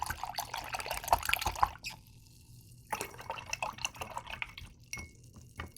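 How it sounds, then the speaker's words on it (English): A paintbrush used for acrylic painting is rinsed in a container of water, producing soft, quiet splashes and drips in irregular bursts nearby, with no voices. "And I'm going to wash my brush."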